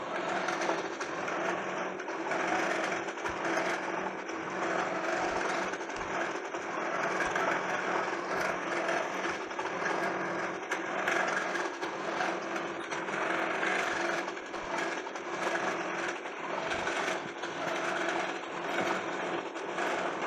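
A quilting machine stitching an edge-to-edge pattern across a quilt on a hoop frame runs continuously with a steady mechanical whir and hum, close and fairly loud, unbroken for the whole stretch with no speech.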